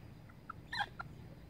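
A few short, faint clucks from backyard chickens, three brief calls spread over little more than a second against quiet background hiss.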